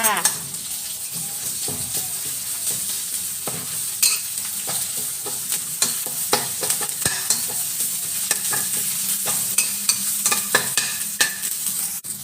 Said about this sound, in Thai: ผัดพริกแกงให้หอมจ้า